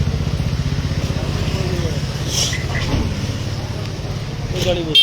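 A motorcycle engine idles steadily nearby, its low, even throb running through the whole stretch while people talk over it.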